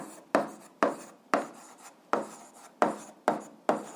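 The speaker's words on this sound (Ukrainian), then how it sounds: "Ну що ж, записуємо друге." A pen writes on paper in short scratchy strokes, seven or eight distinct quick scribbles at a steady rhythm, close and fairly quiet with nothing else heard.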